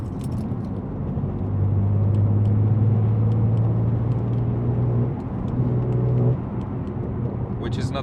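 A manual BMW M3 G80 engine droning steadily while driving, a deep, throaty hum with a sustained low tone that briefly dips and resumes, heard from inside the car.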